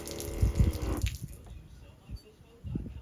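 Filtered water runs from a quick-connect filter of an onboard water system, a close splashing stream for about a second that then cuts off, followed by faint drips and small handling knocks.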